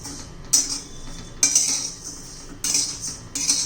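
Fennel seeds dry-roast in a pan over a medium gas flame, with a spatula scraping and rattling against the metal in a few separate bursts over a quiet background.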